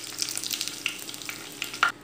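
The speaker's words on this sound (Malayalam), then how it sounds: "ഇപ്പോൾ കടുക് പൊട്ടി വന്നിട്ടുണ്ട്. നമുക്ക് ഇതിലേക്ക് ഒരു 3 വറ്റൽമുളക് ചെറുതായി നുറുക്കിയിട്ട് കൊടുക്കാം." Dry red chillies and popped mustard seeds frying in coconut oil, a soft, steady sizzle with scattered crackles and light stirring, close but fairly quiet, with no talk.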